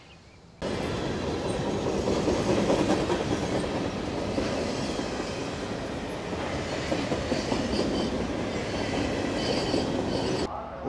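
A train rolls through the Alexandria Amtrak station. It begins abruptly as a steady, loud rumble with rattling wheels and clickety-clack over the rails, carries on with faint squeals, and cuts off near the end.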